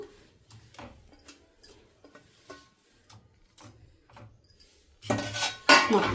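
A spoon scrapes and clinks against a pan while fried cabbage manchurian is mixed in, soft sporadic metallic taps building to a louder burst of stirring near the end, with no voices.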